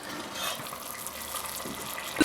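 Water pours into a pot of braised chicken for nihari, a steady rushing fill close by that swells briefly near the end.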